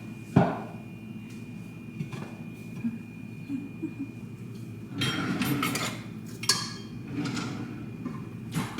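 A cooking pan is picked up and handled in a home kitchen, sharp metallic knocks and clanks scattered over a quiet background with a steady hum, a few bursts of rattling close by.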